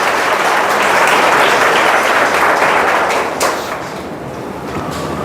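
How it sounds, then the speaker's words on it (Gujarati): An audience at an institution gathering claps to welcome a visiting family, the applause loud, close and steady before tapering off toward the end. "આપણે સૌ તેમનું તાળીઓથી સ્વાગત કરીએ"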